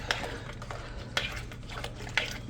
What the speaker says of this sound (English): you want to mix that up